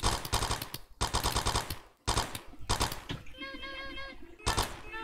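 Rapid gunfire from randomized enemy weapons in the video game Penguin Heist, heard as dense bursts of automatic shots separated by brief pauses, loud and close, with no speech.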